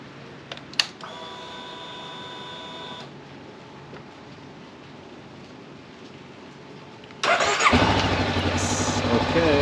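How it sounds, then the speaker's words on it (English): Honda CB500X motorcycle, rebuilt after 100,000 km, starting up: a starter whine gives way to the engine catching and settling into a steady, loud idle close by. "So let's try and start the bike and make sure the accessories work."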